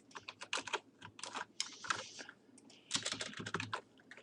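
Rapid typing on a computer keyboard, dense bursts of clicking keystrokes with a short pause in the middle, close and clear with no talking.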